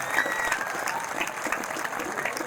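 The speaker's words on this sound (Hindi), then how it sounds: "जोरदार तालियां तो बनती है भाई, देखो।" Applause fills a student felicitation ceremony honouring JEE Main 2025 achievers at RPS Rewari: dense, steady clapping from a crowd, held at an even level for the whole stretch.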